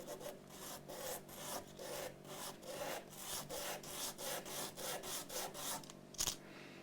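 Sandpaper rubs over the metal frets of a Mexican-made Fender Stratocaster electric guitar in quick, rhythmic back-and-forth strokes, close and steady with no talking.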